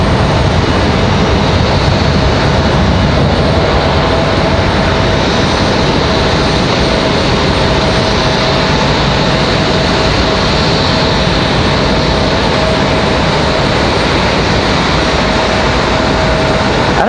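Jet airliners at Raleigh-Durham airport, including an Embraer E175 bound for JFK, give a loud, continuous engine roar with a faint steady whine, sustained throughout without talk.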